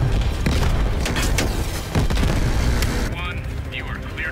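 Booming gunfire and explosions from a Cold War–era military shooter game rumble continuously and loudly for about three seconds, then the battle noise drops away into quieter ambience.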